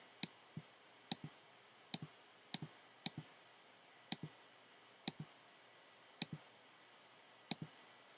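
Computer mouse clicks while building a new world in the Karel programming environment, about a dozen crisp, close clicks, often in quick pairs, spaced irregularly in an otherwise quiet room.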